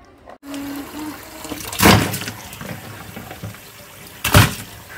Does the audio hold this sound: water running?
yes